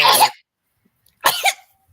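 Two short, sharp bursts of a sneeze, separated by about a second of silence, close and fairly loud with no talking.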